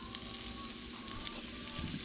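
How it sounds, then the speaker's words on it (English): Abdul's sausage sizzles in a heated skillet for beans and rice, a steady, close crackling hiss that runs unbroken with faint pops throughout. "I got that Abdul's sausage going in the skillet"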